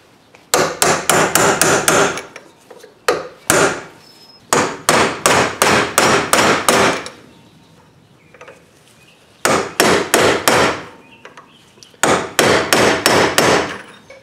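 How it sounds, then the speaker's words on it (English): Rapid bursts of sharp metallic hammer blows on a BMW rear wheel bearing race on its shaft, in quick runs of about six to eight strikes, pausing between sets, loud and close with no talking. "So we're going to try to hammer this out a little bit."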